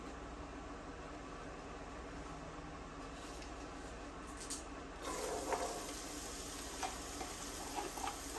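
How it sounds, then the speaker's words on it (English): Vegetables sauté in smoked hog jowl and bacon grease, a steady low sizzle running throughout, growing a bit louder and busier partway through with scattered crackles and light stirring clinks. "I'm gonna saute my vegetables"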